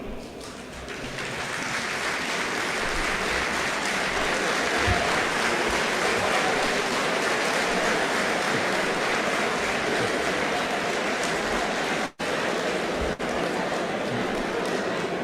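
A large hall of young people at a Senegalese political gathering rises to cheer and applaud, a dense, loud sustained roar of clapping and shouting that builds in the first seconds and holds steady throughout.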